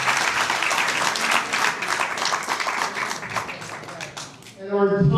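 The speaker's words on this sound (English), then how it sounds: "Big round of applause for Bobby Kumar." Big round of applause from a crowd at a 250th Independence celebration on Long Island, dense sustained clapping that stays loud for several seconds before a voice cuts in near the end.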